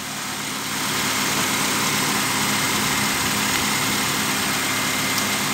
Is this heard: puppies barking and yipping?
no